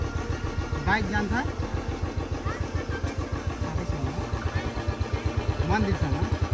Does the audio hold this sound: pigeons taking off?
no